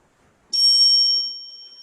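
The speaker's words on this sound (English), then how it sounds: "whenever the green card is shown, you will be hearing one bell" A single bell strikes once to signal that the green timing card is shown at a meeting. The ding is bright and clear, and its tone rings on and fades slowly with no talking over it.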